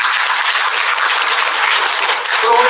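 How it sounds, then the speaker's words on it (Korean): Loud, steady applause from a seated lecture audience at a public health talk, sustained clapping filling the room without pause for several seconds. "다시 한번 박수 부탁드리겠습니다"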